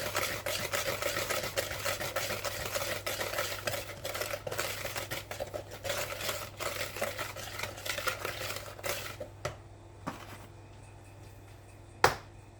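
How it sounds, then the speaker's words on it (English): An egg is whisked into thick homemade fudgy brownie batter, giving a dense, continuous scraping swirl close up for most of the stretch before it stops, leaving a few sharp utensil taps near the end. "So I'm stirring the egg in,"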